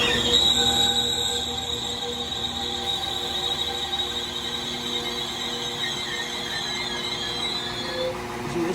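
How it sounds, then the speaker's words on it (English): A Class 197 passenger train pulls away from Newton-le-Willows station toward Manchester Airport, its wheels squealing and a high tonal whine held steadily throughout, close and loud over constant rumble. "Train now departing is a 197 going to Manchester Airport"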